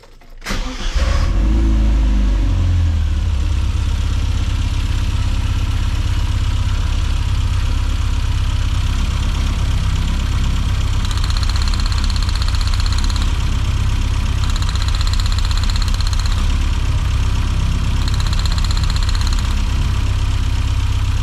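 A Mini John Cooper S Sport 5 petrol engine, fitted with new spark plugs while chasing a rough idle, starts and settles into a steady, close idle, with a faint intermittent high whine partway through and no talking.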